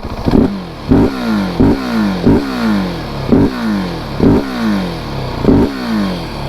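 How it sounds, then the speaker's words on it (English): A 2021 Husqvarna 701 SM supermoto's single-cylinder engine is blipped repeatedly, with about eight sharp, loud revs in an even rhythm, each rising then falling back toward idle, close up and with no speech. "So if I blip it a bit harder, maybe you could pick up a little bit."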